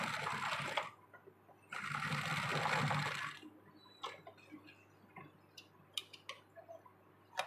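A sewing machine runs in two short loud bursts while stitching down the centre of a blouse sleeve, followed by quieter handling clicks and taps nearby.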